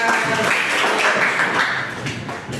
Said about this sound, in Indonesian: Terima kasih semuanya, kasih tepuk tangan.